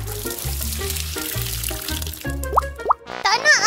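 Water pours and splashes for a child's bath at home, a gurgling stream arriving in short bursts with bright sloshing near the end, over a background of music.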